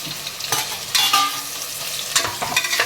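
Green chilies and curry leaves hit hot oil in a pan, giving bursts of crackling sizzle and spattering pops in a few quick clusters, close and bright, with no one talking.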